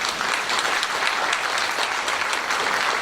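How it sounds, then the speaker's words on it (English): Guests at an anniversary gala give a round of applause, a steady wash of many hands clapping close and loud throughout, with no talk on top. "let's just give all of us a round of applause"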